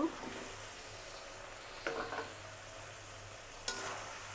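Cut potatoes going into a pan of spicy frying chicken and being stirred: low, quiet sizzle with a few soft scraping stir strokes and a sharp clink near the end.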